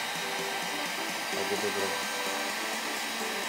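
A hair dryer runs steadily, heating the headlight glue on a Yamaha NMAX scooter, with a constant close whooshing hum while someone speaks briefly over it.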